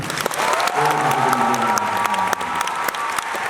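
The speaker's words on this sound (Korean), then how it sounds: "박수 한번 드리겠습니다" A concert audience at a gala show bursts into loud, dense applause for a baritone singer, sustained clapping with scattered cheers that fills the hall without pause.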